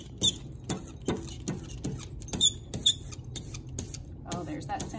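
An ink brayer rolls back and forth over lino printing ink, giving a close, quiet series of sticky, crackly smacking pulses in an uneven rhythm, with no talk.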